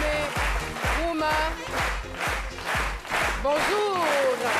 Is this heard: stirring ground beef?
no